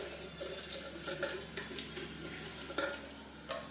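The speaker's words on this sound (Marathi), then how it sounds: "खडे मसाले तेलामध्ये परतून घ्यायचे" Whole spices sautéing in oil in a pan for a rice dish: a low steady sizzle with occasional stirring scrapes and light clinks of a spoon against the pan, close, no talk.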